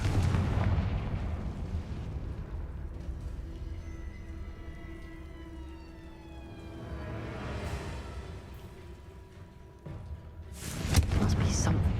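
A Confringo blasting spell in Hogwarts Legacy lands as a deep rumbling explosion over a dense game soundscape, its roar swelling and fading, then a second sharp burst near the end.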